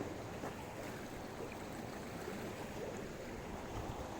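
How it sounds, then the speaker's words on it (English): Steady flowing water as sacred stream waters pour into a lake, a continuous broadband rush with no voices, even and unbroken throughout. "I love the sound of the water"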